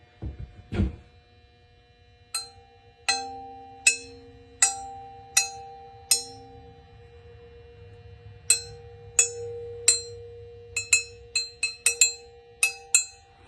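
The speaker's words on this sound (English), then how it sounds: "one of the first things you should do with a double is check to see if the barrels ring" The steel barrels of a double-barrel shotgun are tapped to test them, giving a series of bright, sustained metallic rings, a few spaced strikes followed by a quicker cluster of taps, close and clear, with no talk.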